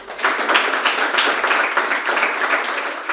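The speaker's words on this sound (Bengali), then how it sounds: "একটা দিলসে সোমনাথ বাবুর জন্য হাততালি হবে" Sustained applause from an audience at a gathering honouring a successful primary teacher candidate, a dense steady clapping close and loud throughout, no talk over it.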